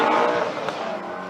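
A Nissan GTR launches at a spectator drag race at the Freedom Factory, a loud, close, broadband roar of engine and tires that fades slightly over a second and a half.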